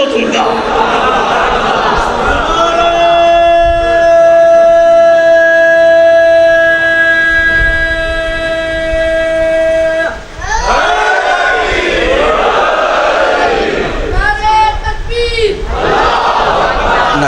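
Crowd at a Muharram majlis in an imam bargah chanting slogans in loud unison, with long sustained voiced calls, a short break, then more rhythmic group chanting.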